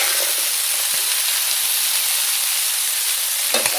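Lentil burger mixture sizzles loudly in a hot pan, a dense, even frying hiss with a few soft scraping stirs, close and without talk.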